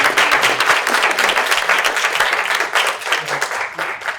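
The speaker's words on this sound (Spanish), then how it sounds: "un aplauso a los intérpretes" Audience applause for the interpreters at a Spanish-language automotive industry conference, a dense steady wash of many hands clapping at full volume for several seconds.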